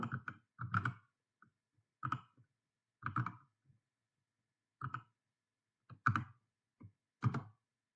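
Short bursts of keystrokes on a computer keyboard as a ping command is entered at a command prompt, clustered taps separated by quiet pauses, close and faint.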